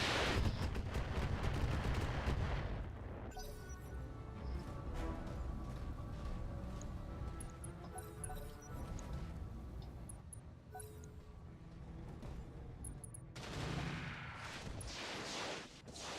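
Heavy mech weapons fire in the Roguetech battle game, a loud rumbling barrage for the first few seconds, then a steadier low roar of combat with a second surge near the end.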